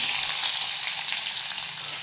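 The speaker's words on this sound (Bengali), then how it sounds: "এরপরে পেঁয়াজগুলো ভেজে নেবো" Onions frying in a wok for chana masala give a steady, close, loud sizzle with a bright hiss that runs unbroken and alone.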